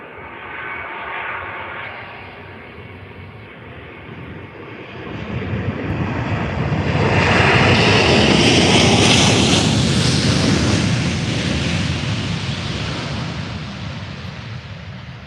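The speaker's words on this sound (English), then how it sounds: "Yeah, it's Lufthansa." A Lufthansa airliner passes at Faro Airport, its engine roar swelling from a distant rumble to a loud, broad jet wash overhead, then easing slightly as it moves on, with no voices over it.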